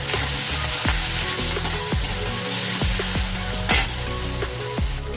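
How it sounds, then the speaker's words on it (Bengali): Garlic paste frying and being stirred in a pan for a Bengali fish curry, a steady close sizzle with repeated sharp scrapes of the spoon against the pan, alone without talk. "এবার আমি রসুন বাটা দিয়ে দেবো দেবো রসুন বাটা এটা দিয়ে একটু ভালো করে কষে দেবো"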